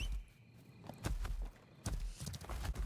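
Horse hooves clip-clop in the video game Ashes of Creation, a few soft, uneven thuds at a walking pace, faint and close, with no talking.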